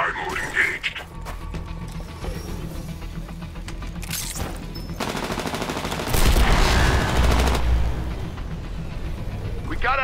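Rapid bursts of gunfire and mechanical clatter from a Titanfall 2 match, loud and continuous, with a heavier stretch of firing midway, mixed with game voice chatter.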